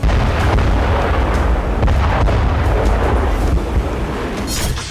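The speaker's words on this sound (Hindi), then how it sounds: "लगातार धमाके हो रहे हैं।" Loud, continuous rumbling explosions and heavy booms rolling one after another, dense and close, from war fighting near a nuclear power plant in Ukraine.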